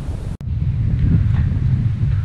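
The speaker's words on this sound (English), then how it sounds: "It's been sunny and very windy, as you can probably hear on the GoPro." Strong wind buffets a GoPro camera microphone with a steady, heavy rumble, briefly cutting out for a split second near the start, on sunny open land.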